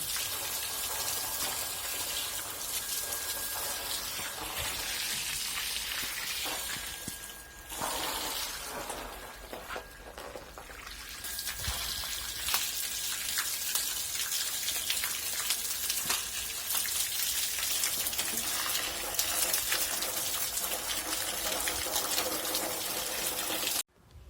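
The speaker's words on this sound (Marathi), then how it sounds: "सकाळी दहा वाजेपासून मारायला लागेल पाणी आता" Water sprayed from a hose onto the freshly plastered walls of a house, a constant hissing, splattering rush that runs steadily throughout, briefly dipping around the middle before resuming at full strength.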